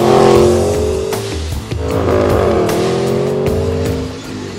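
A 2011 Aston Martin V8 Vantage S engine revs loudly and up close, its pitch rising and falling through several throttle blips with no talking.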